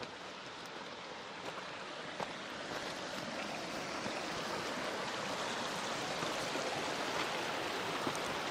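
Eagle Creek in the White Mountain Wilderness of Lincoln National Forest, Sacramento Mountains, rushes steadily close by, a continuous broadband wash of flowing water with no break and no voices.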